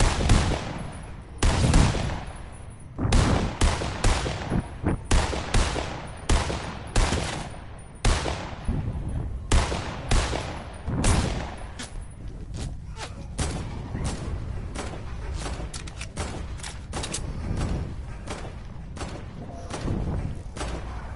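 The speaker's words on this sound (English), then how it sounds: "someone's shooting at me" Gunfire in a PS4 video game comes in repeated loud bursts of automatic shots and single cracks. It goes on for a long stretch, some volleys heavy and near, others thinner and steadier.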